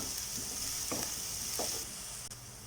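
Onions sautéing in a pan for potato masala give a steady, close frying sizzle, with a couple of soft stirring scrapes rising out of it and no talking.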